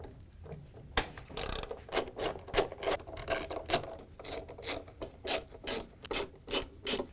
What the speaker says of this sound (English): Now we can take off the 6 bolts that hold the stator in. We're going to take them off with a 10mm socket and an extension.